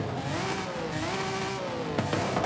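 Lamborghini LM-002 with a twin-turbo V12 in Forza Horizon 5, a loud, steady engine drone with rising and falling revs throughout, no talking.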